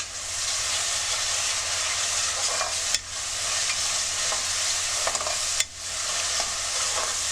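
Ginger garlic paste frying in oil for a Tamil chicken curry, a loud, steady close-up sizzle lasting throughout, broken by two sharp scrapes as it is stirred.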